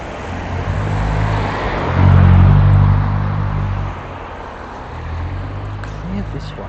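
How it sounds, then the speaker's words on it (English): Steady car traffic on a Sydney road, a continuous broadband rumble with one vehicle passing close and loud midway before the roar settles back to a constant background. "Cars bloody everywhere right now."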